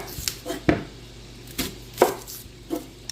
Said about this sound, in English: Alright, so it said chop 1 onion.